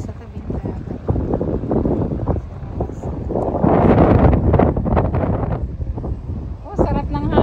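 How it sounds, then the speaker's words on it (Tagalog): Seaside wind at a Batangas beach at low tide buffets the microphone in a steady roar that swells in the middle, with people talking over it throughout. "sarap ng hangin dito oh"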